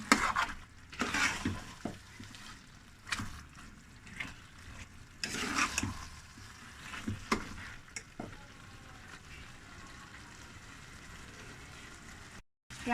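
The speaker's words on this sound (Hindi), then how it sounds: "इसको हमने 2 मिनट जो है वो भून लिया अच्छी तरह से आलूओं को इसके साथ" Potatoes frying in a pot for an aloo baingan sabzi, with a steady soft sizzle and repeated scraping strokes of a spoon against the metal at irregular intervals, close and fairly quiet, no voices.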